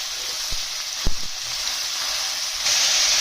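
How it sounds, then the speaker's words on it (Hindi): Mixed vegetables and peas half-frying in a pan for a restaurant-style veg handi, a steady broad sizzle throughout with a few soft thumps of stirring early on, swelling slightly louder near the end. "और मटर को भी इसके साथ हम हाफ फ्राई करेंगे"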